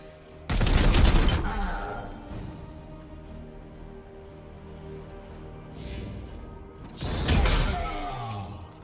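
Two loud bursts of rapid gunfire in the Chaos Gate video game, each a dense crackling volley about a second long, separated by quieter game ambience and mechanical hum.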